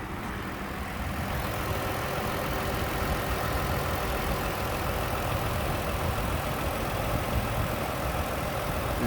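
A 2019 Lexus RX350 engine idles steadily with the hood open, giving a smooth, continuous hum at an even level for the whole stretch, close by and with no talking.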